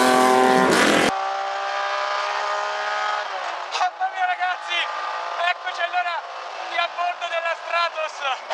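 Lancia Stratos HF rally car heard from the cockpit, a loud rasping engine holding steady then rising and falling through rhythmic revs and gear changes, with someone talking over it.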